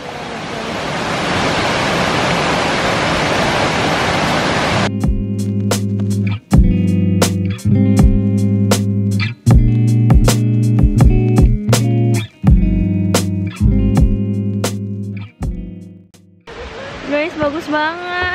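Coban Rondo waterfall roars as a loud, steady rush of falling water at first, then music takes over before the water noise returns briefly at the end.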